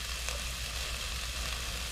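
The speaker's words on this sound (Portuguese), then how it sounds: "Vou dar uma refogada aqui nessa cebola e nesse alho." Onion and garlic sautéing in a pan, a steady soft sizzle of frying that hisses evenly throughout, close and moderately quiet, with no voices.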